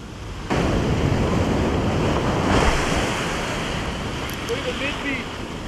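Ocean waves breaking on the California coastline, a loud continuous rushing wash of surf with wind noise buffeting the microphone, swelling early and easing slightly toward the end.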